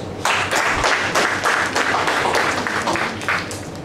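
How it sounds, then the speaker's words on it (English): Audience applause at the close of a Toastmasters-style club meeting, welcoming the general evaluator onto the stage: a dense, steady burst of many hands clapping, close and loud, sustained for the full few seconds with no speech over it. "A big round of applause."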